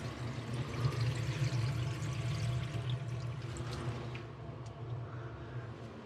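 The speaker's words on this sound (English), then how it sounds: "For my final test, I always like to fill the sink up where it's got a lot of flow," Steady strong flow of water from a faucet filling a bathroom sink basin during a plumbing test, a continuous rushing pour with no voices.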